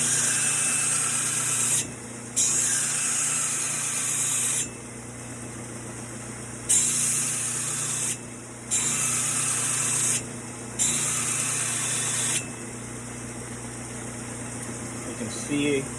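A belt sander grinds the edge of an axe, a steady loud abrasive whir with a hissing grind that cuts out briefly several times as the blade is lifted off the belt and pressed back on.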